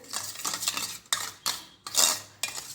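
Curd and a little sugar are whisked in a bowl, making quiet, close, rhythmic clinking and scraping strokes in short bursts with brief pauses.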